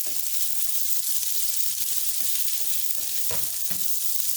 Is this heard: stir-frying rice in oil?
yes